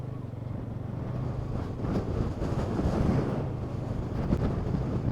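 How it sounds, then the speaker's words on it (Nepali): Strong wind at Marpha in Mustang, Nepal, roars steadily against the microphone, a loud, broad rumble that surges and buffets throughout with no clear speech. "यहाँ हावाले उडाउला जस्तो कत्रो हावा चलेको त नि"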